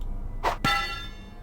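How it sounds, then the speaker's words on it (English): A bell struck with an axe in the Mask of Eternity video game gives a single bright metallic clang after a short swish, its tone ringing on and fading over about a second. "you always have to ring the bell 3 times"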